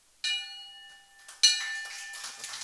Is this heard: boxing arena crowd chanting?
no